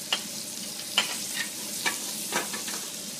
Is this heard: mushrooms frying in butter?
yes